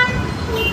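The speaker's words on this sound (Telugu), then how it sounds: "సార్ హార్న్ ఎలా ఉంది సార్?" Horn of a single-wheel electric vehicle, a short, steady electronic tone sounding close by for under a second.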